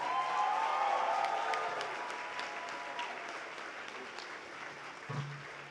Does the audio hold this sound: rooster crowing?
no